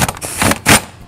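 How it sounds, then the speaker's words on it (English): Wheel nuts being run up onto a wheel hub during a disc rotor fitting, a quick close burst of metallic rattling and clicking that swells and fades in short uneven pulses, with no voices. "we now gently just run the wheel nuts up until they"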